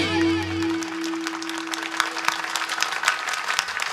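A kirtan audience claps in a sustained crowd of hands after a sung or spoken tone fades, the rhythm irregular and fairly close.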